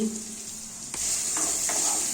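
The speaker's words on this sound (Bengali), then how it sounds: "কড়াইতে দিয়েছি সাদা তেল লম্বা লম্বা করে কাটা আলুগুলো দিয়ে দিচ্ছি" Long-cut potato strips dropped into hot refined vegetable oil in a wok, a quiet hum giving way to a sudden bright, steady sizzle that continues close by.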